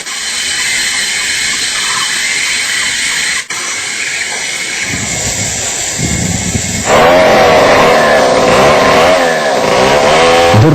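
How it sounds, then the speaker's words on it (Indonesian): A chainsaw drones loudly and continuously in illegal logging in the Bukit Itak protected forest, its pitch rising and straining as it bites into wood, close by and alone. "Deru suara gergaji mesin terdengar dari puncak hutan lindung Bukit Itak"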